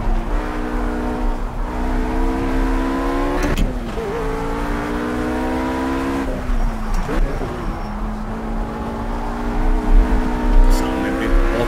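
RUF RGT 8 Porsche race car engine in Project CARS on the Eifelwald track, a loud, steady high-revving drone with sharp drops and climbs at each gear shift, heard up close.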